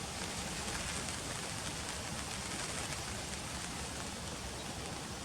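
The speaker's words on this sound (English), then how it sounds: "It started raining about 1 o'clock this morning, just on and off showers" Steady rain pattering on surfaces at a pond in the early hours, a dense, continuous hiss with no break, close and even throughout.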